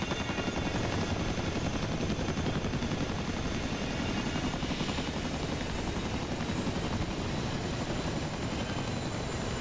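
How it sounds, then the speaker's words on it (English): A Chinook helicopter flies through smoke, its loud, dense rotor thump and engine roar filling the air steadily from start to finish with no voices. "Now that Chinook's gonna come through the smoke here in a minute."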